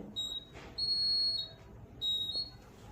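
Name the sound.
homemade light-sensor security alarm beeping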